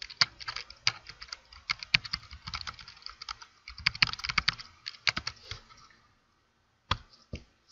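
Fingers type on a computer keyboard in irregular bursts of crisp key clicks, close and fairly quiet, with a pause of silence before a few final keystrokes.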